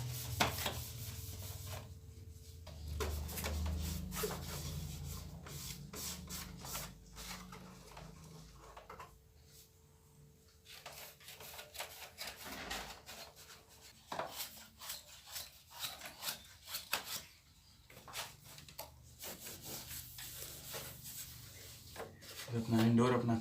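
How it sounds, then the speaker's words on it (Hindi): A cloth wiping and rubbing the body of a split AC indoor unit after coil cleaning at home, repeated soft scraping strokes in an irregular rhythm, close and fairly quiet, with someone talking intermittently. "नॉर्मल कपड़ा ऐसे ढीला करके नॉर्मल बॉडी को आप साफ कर सकते हैं।"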